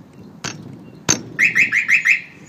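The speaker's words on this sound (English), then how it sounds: "You're gonna get the warning chirp, and it's relatively sensitive." Enclosed trailer alarm's shock sensor going off: two sharp knocks on the trailer followed by five rapid, loud electronic warning chirps in quick succession, close by.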